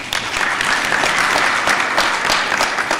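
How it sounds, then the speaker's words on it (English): An audience at a university graduation ceremony in Ethiopia gives a sustained round of applause, dense clapping from many hands filling the hall at a steady level with no speech. "So can I request a round of applause?"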